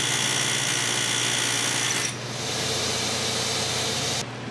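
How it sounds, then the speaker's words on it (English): An air hammer pounds at a seized wheel hub on a W114 rally car, a loud continuous rapid rattle close by that eases in strength about halfway through and cuts off just before the end. "I decided to go at it with an air hammer."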